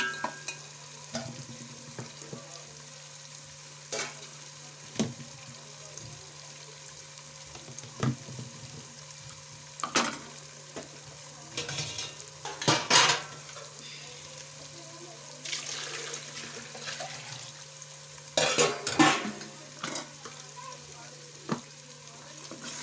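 Masala frying in released oil over a medium flame for egg biryani, a quiet steady sizzle with occasional sharp spoon scrapes and clicks against the pan, close and soft, no talk.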